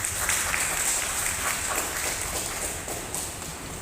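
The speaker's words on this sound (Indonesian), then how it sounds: "Aplaus untuk kami" Audience applause at a farm apprenticeship event run by an agricultural training centre, a steady wash of clapping that holds evenly for several seconds, with a few louder bursts and faint voices underneath.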